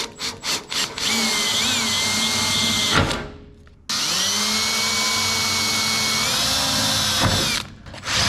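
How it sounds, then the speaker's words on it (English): A power drill bores bolt holes in a 1967 Datsun 520, running in two long, steady whining bursts separated by a short pause, loud and close. "It's not just the one bolt that I have to drill."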